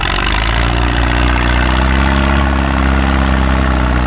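A Ford 6610 tractor with an H pump, big intake and short injectors runs steadily close by, its deep, loud engine rumble and vibration continuous and unbroken, with no talking.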